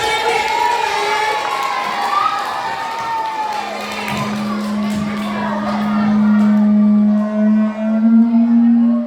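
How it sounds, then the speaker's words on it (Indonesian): A seminar audience at a health festival opening applauds and cheers, with loud crowd clapping and whoops that give way to a sustained tone near the end. "Beri tepuk tangan yang meriah, teman-teman."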